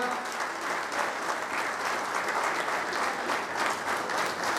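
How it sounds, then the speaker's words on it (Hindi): An audience gives loud, continuous applause to welcome a guest speaker at a gathering, with dense clapping from many hands that stays even throughout and has no talk over it. "जोरदार तालियों से स्वागत करें श्री स्वप्निल वानखेड़े जी"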